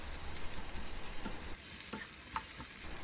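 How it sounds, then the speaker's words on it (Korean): Eggplant stir-fries in oil with a soft, continuous sizzle and occasional light scraping as it is tossed in the pan, heard alone without voices. "가지를 넣고 가지가 숨이 약간 죽을 때까지 볶아주세요"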